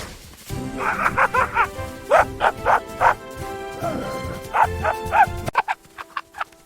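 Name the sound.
dog barking, cartoon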